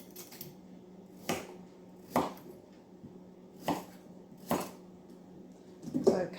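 Carrots being chopped for a sausage bake: a knife strikes a board in crisp, close chops about once a second, roughly six in all, with no talking.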